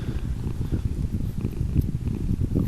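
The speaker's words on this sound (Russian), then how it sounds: "Как громко мурчит." Large, heavy cat purring loudly up close, a rapid low rumbling rhythm that runs continuously and throbs steadily with each breath, with no voices over it.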